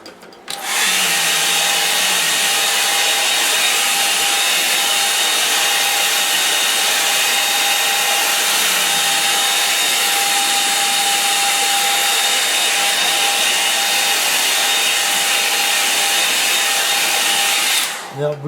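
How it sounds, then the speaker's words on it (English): A hair dryer blows loudly and steadily close by, its whooshing hum running unbroken for the full length before switching off. "Bear with me a second while I locate my hairdryer."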